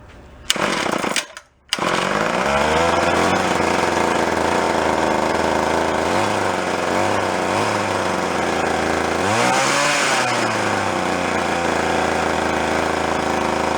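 An antique gas-powered drill's small engine sputters briefly, cuts out, then catches and runs loud and close for a sustained stretch, revving up and down several times with a buzzy, chainsaw-like drone.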